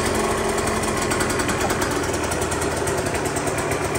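A fuel-injected KTM motorcycle engine runs after an electric start, giving a loud, close, rapid steady putter with a buzzy high edge and no talking.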